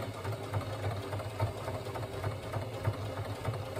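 A sewing machine runs at a slow, even pace, reinforcing a stitch on a Berghaus Munro backpack, a close rhythmic mechanical thumping with a steady low hum underneath.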